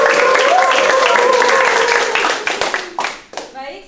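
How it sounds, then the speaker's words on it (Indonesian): Classroom applause after university student group presentations, a dense burst of many hands clapping with a tonal voice line over it early on, thinning to scattered separate claps toward the end. "Mari kita beri tepuk tangan untuk Anda."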